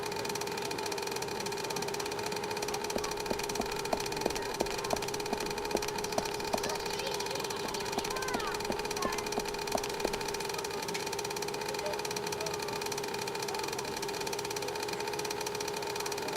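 Engine running steadily in the PC adventure game Secret Files 2: Puritas Cordis, a continuous droning hum with faint rhythmic ticking over a wash of ambient noise, constant and unchanging throughout.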